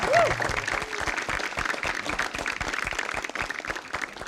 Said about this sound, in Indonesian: Sekali lagi beri tepuk tangan dulu buat peserta yang satu ini.